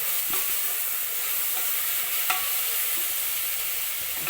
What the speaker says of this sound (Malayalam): നമ്മൾ ഇത് സവാള ഇട്ടിട്ട് ഇതുപോലെ ഇളക്കി കൊടുക്കുക